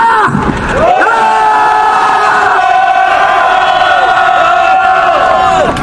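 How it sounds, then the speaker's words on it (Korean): A large crowd at a candlelight rally at Bosingak, opposing a Korea–Japan military agreement, roars together in a loud, sustained collective shout lasting about five seconds, with voices held steady throughout. "5초간 함성 발사합니다"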